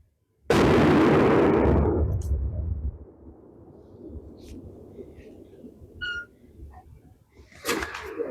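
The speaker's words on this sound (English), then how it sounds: "That first cold bore shot." A 6.5 Creedmoor rifle fires a single cold bore shot outdoors: one loud, close blast that rumbles and decays over a couple of seconds, followed by faint background sounds and brief voices.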